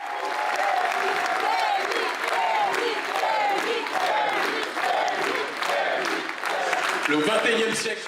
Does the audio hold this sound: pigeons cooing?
no